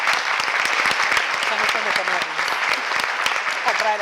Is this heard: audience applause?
yes